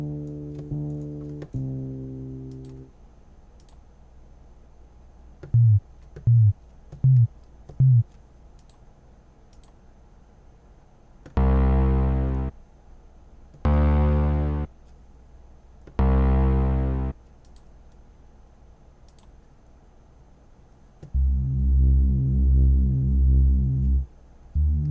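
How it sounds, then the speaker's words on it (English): 808 and synth bass patches from the DOPE VST plugin play in turn: sustained bass tones, a run of short punchy hits, then three long heavy blasts and a final held note, with silence between phrases. "This is where you're gonna find your 808s, and you're gonna find some more synthy type basses."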